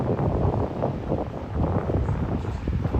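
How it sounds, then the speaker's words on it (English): Strong wind blows through Midtown Manhattan, buffeting the microphone with a low, rumbling roar that surges and eases over a few seconds. "oh man, it's really windy now"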